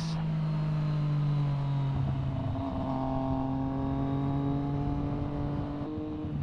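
A Triumph Street Triple R motorcycle engine revs as the throttle is twisted, a loud close droning roar whose pitch climbs and dips through several revs across the whole stretch, with no talking.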